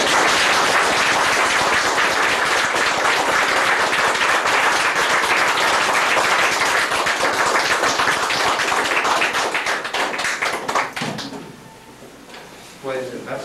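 A workshop audience breaks into loud, sustained applause, a dense rapid patter of many hands clapping that lasts about ten seconds before tapering off into a few scattered claps and quiet room noise.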